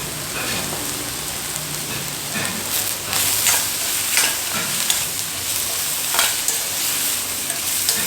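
Vegetables sauté in a pan with chili flakes and salt for a homemade pasta dish, sizzling steadily while a utensil stirs and scrapes in occasional bursts, with no talking.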